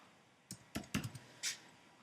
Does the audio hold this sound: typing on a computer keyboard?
yes